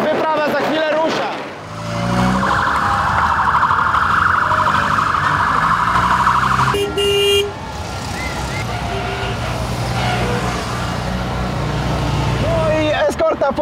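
A police escort siren wails in a steady tone among street traffic noise, fairly close, with voices and vehicle rumble around it before it cuts off.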